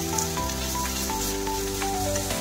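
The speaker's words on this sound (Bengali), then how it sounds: "দেখো মোচাটা আমার ভাজা ভাজা হয়ে গেছে। এরপর আমি অ্যাড করছি গ্রেট করা আলু।" Banana flower and grated potato frying in a pan as they are stirred together, a steady close sizzle with soft scraping stirs and faint clinks, no talking.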